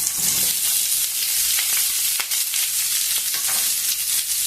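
Sliced onions, green chillies and curry leaves fry in a pan for a raw banana dish, giving a steady, loud, unbroken sizzle with faint crackles throughout and no voices.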